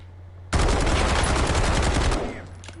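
Gunfire in the video game Call of Duty Warzone, heard as an abrupt, loud, dense burst of rapid shots lasting almost two seconds before cutting off into quieter game ambience.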